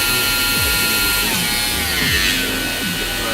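A Proxxon 18-volt hobby drill runs with adjustable speed between 5,000 and 14,000 rpm, a steady high motor whine with small pitch shifts as the speed changes, close and continuous without talk.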